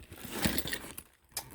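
Keys jangling as they are dropped into a large Dooney & Bourke Darcy bag in quilted marine denim, a short bright metallic clinking burst close up, then a brief quiet.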